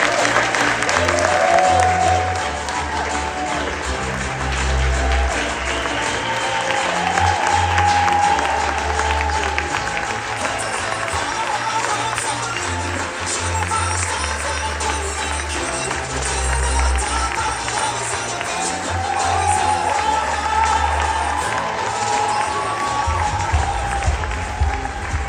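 A large audience at a county address gives long, steady applause for the Miami-Dade County Mayor, with dense clapping and a backing music bed running underneath throughout.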